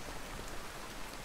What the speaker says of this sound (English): I'm going to add rain. We're going to pretend like it just started raining.